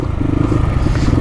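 A motorcycle climbs uphill on a ride toward Chitlang, its engine giving a steady, close, loud drone with low rumbling throughout.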